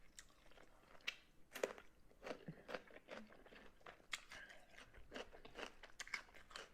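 Crisp crunches of cucumber being bitten and chewed close to the mic, in irregular bursts with soft wet mouth sounds between, fairly quiet overall.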